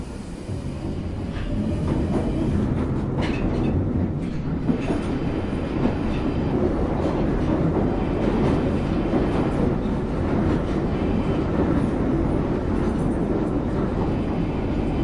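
A London Underground Northern line train bound for High Barnet runs on its rails, a loud, continuous rumble with rhythmic clatter that swells in the first seconds and then holds steady.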